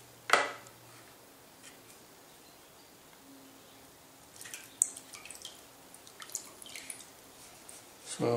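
Water dripping onto the joint of a hand-thrown clay mug during pottery work: sparse, faint drips and light taps, with a sharper tap at the start, over quiet room background.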